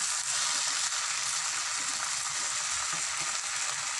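Washed chicken pieces fry in a pan for a chicken curry with drumstick leaves, giving a steady, even hiss of sizzling that runs unbroken and fairly quiet from start to finish, with no voices.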